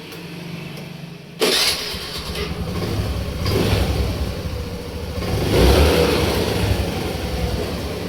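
A Honda Activa scooter engine cranks and catches with a sharp burst, then settles into a steady running note that swells briefly with a throttle blip, close by with no talking.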